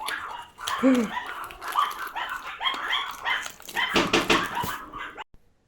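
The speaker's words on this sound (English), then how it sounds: "The dogs have found something to bark at." Dogs bark and yip repeatedly at close range, with some whimpering, in irregular bursts before the sound cuts off.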